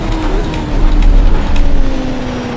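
A Radical SR8 race car in iRacing powers gently out of a hairpin at the Red Bull Ring, its engine droning loud and steady with a rising whine as it accelerates, and no voices over it.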